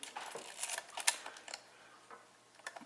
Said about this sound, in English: you check the shutter speeds, there's a 250.